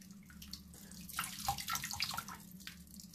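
Rice being rinsed by hand in a bowl of cloudy water under a tap, with close, irregular sloshing and swirling splashes that rise and fall over a few seconds; no voices.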